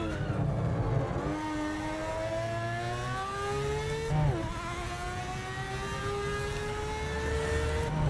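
A race car in Project Motor Racing climbs steadily through the revs, its engine note rising smoothly, dropping briefly at a gear change near the middle and rising again, loud and continuous with no talk.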